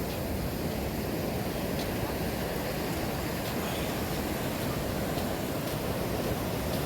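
Atlantic ocean surf at Vilano Beach, Florida, makes a steady, dense, hissing wash with no clear individual breaks, loud and continuous throughout.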